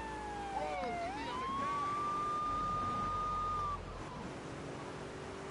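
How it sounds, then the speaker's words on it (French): A police car siren in GTA III Definitive Edition on PS5 rises into a single long, steady wail that cuts off abruptly, with soft game ambience continuing underneath. "J'ai arrêté la sirène."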